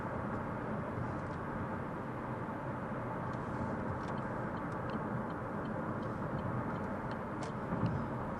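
Car cruising on a Los Angeles highway at about 65 mph, a constant broadband road and engine roar with steady tyre rumble, unbroken and fairly loud throughout.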